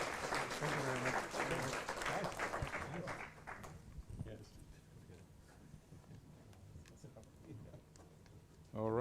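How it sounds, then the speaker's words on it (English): Conference audience applauding after a session host is thanked, a dense crowd of clapping for about three and a half seconds before thinning to scattered claps and room noise, with a voice speaking briefly near the end. "One more applause, please"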